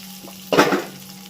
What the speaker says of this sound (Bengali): এবার ফোড়নটাকে একটু ভেজে নিচ্ছি।